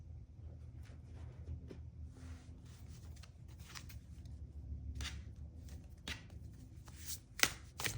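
Tarot cards shuffled by hand, with soft riffling and sliding bursts and a few sharper taps as the deck is handled, faint and close in a quiet room.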